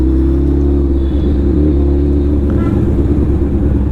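Suzuki Hayabusa motorcycle engine rumbling loudly in traffic, a heavy continuous low drone very close to the microphone, with a faint voice underneath and no clearly distinct backfire pops.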